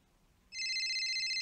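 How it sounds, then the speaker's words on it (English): A telephone begins ringing partway through, its steady, bright electronic ringtone holding loud and close after a short quiet stretch. "Answer your phone."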